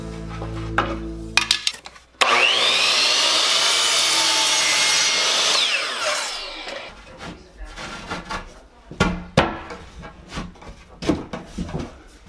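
Handsaw cutting wood while coping a crown molding piece for an uneven ceiling: a loud, steady stretch of sawing strokes, followed by scattered knocks and scrapes of handling the molding.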